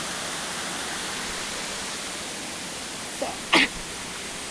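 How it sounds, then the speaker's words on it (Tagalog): Waterfall at Clear Water Bay, Little Hawaii: a steady broadband rush of falling water fills the whole clip, with a brief short vocal sound near the end over the constant roar. "Tapos andun yung waterfall."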